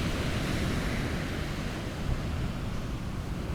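Steady roar of surf washing onto the shore, broadband and continuous, with a faint rumble of wind underneath and no voices.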